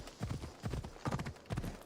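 Horse hooves clip-clop in Assassin's Creed Odyssey, four close, evenly spaced pairs of hoofbeats at a steady trot, loud and alone.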